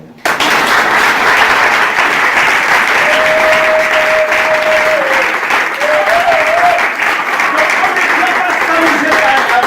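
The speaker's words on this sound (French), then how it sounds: "On peut applaudir pour le Seigneur." A church congregation at a worship and ordination service applauds for the Lord, dense sustained clapping close and loud throughout, with a raised voice or sung tone rising over it midway.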